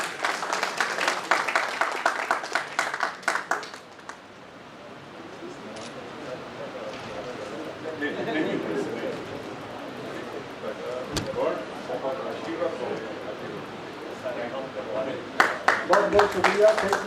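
Audience applause at a memorial ceremony for a honour presentation, bursts of clapping at the start and end with a crowd murmur and voices talking in between.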